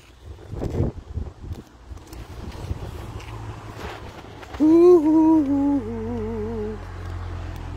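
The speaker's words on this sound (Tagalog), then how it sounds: "Lakas ng hangin, tumawag na." Strong wind buffets the microphone with a low, gusting rumble, and a loud sustained horn-like tone cuts in briefly partway through.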